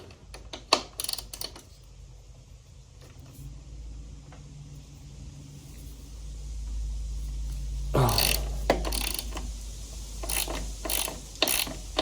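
A socket ratchet with 14 mm and 17 mm sockets loosens a bolt on a Honda CBR600RR motorcycle, with quick bursts of close, sharp pawl clicking near the start and again toward the end and no talk.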